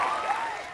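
A short burst of crowd applause plays as a sound effect, a dense, bright clatter of clapping that stays loud throughout.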